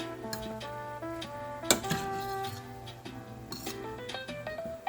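Spatula scraping and clinking against the bottom of a frying pan while vegan steak cooks, light irregular metallic taps and rubs, faint and close, with no talk.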